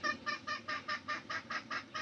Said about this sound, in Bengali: এই যে এই মুরগিটা আর আরো কিছু মুরগি আছে আমাদের